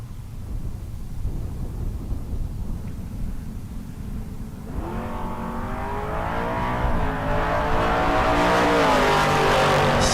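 A Ford Mustang and a 1967 Barracuda launch side by side at a bracket drag race, a low idling rumble giving way to loud, climbing engine revs through the gears as the cars pull away.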